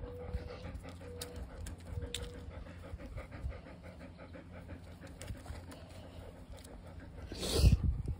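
A red dog pants rhythmically up close, with soft breathy huffs continuing steadily, then a brief louder rustle near the end.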